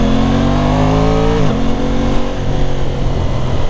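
Aprilia Tuono 660 Factory motorcycle engine droning loud and steady while riding, the pitch easing down and then holding, with strong wind rush throughout.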